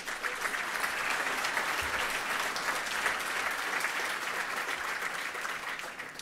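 Conference crowd at ReactEurope applauds the React team, a steady even wash of many hands clapping from a moderately distant audience, continuous throughout.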